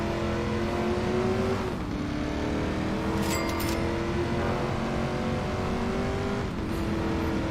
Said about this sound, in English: this Ford GT in this game doesn't sound too close to a Ford GT in real life.